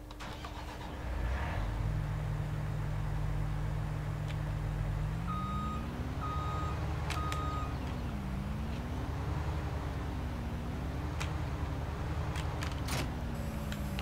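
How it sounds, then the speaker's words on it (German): Combine harvester engine in Farming Simulator 19, a steady low rumble that rises into a wavering drone, with a repeating reversing beep over it. "Dann machen wir jetzt hier auch nochmal einen kleinen Motortest sozusagen."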